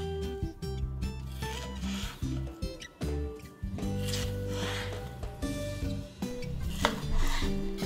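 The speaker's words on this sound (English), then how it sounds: "cut 1 pound of sashimi-grade tuna into 3/4-inch strips. Then, cut into bite-sized cubes." Knife cutting sashimi-grade tuna into bite-sized cubes on a board, a series of dense, irregular slicing and scraping strokes with brief gaps, fairly close and loud, over faint background music.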